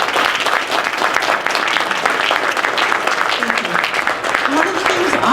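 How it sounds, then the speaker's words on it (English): Steady, dense audience applause fills a Common Core informational forum, a continuous wash of many hands clapping at even loudness for the whole stretch, with faint voices mixed in. "I just want you to give another round of applause for our speakers that are still sitting there"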